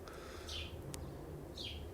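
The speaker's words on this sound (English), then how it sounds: "Do you guys hear the birds?" Birds chirp outdoors, heard through open house windows: a few short, faint calls, including a quick rising chirp near the start and another near the end, over a quiet room hum.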